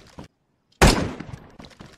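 Gunfire in a 2-vs-2 zombie survival video game: after a near-silent gap, a sudden loud burst of shots erupts and rolls off into a rattling decay, with a few fainter knocks around it.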